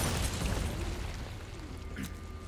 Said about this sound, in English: If I grenade the dude with the Molotov, it just sets everything on fire.